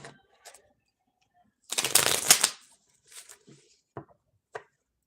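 A deck of tarot cards riffled in one crisp, fluttering shuffle lasting about a second, preceded and followed by a few quiet taps and card handling noises, close and otherwise quiet.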